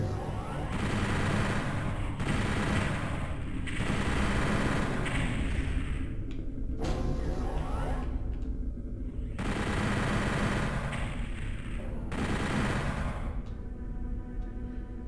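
Rapid sustained gunfire from a weapon in the shooter game Doom 64, loud dense bursts broken by short pauses, continuing across the whole stretch.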